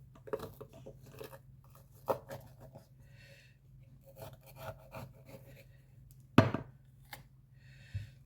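A knife slices through a red bell pepper on a kitchen surface, giving several soft, close rasping cuts spaced irregularly, with a sharper louder stroke near the end.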